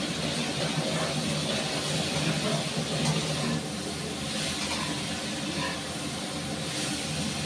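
Finely chopped tomatoes fry in a pan with a continuous close sizzling hiss that eases slightly halfway through, with no talking.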